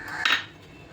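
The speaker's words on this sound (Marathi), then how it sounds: "कढईमध्ये रिंग ठेवून त्याच्यावर ताट ठेवून त्याच्यावर हे कप ठेवले" A metal ring and plate are set down inside a metal kadhai, making one short, bright clink that fades quickly into quiet room tone.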